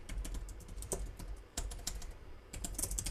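Quiet, irregular clicking of keys on a computer keyboard, several quick bursts of keystrokes with brief pauses between, close and alone.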